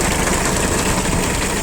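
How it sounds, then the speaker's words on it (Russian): A Mitsubishi MT155 diesel mini tractor with 740 engine hours runs smoothly at idle, a loud, even, close diesel rumble with no talk. "трактор сам по себе работает очень ровно и хорошо"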